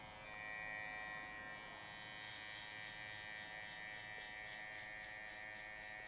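An electric hair clipper buzzes in a steady, even drone while cutting a mid fade haircut, continuous and fairly quiet, with no talking.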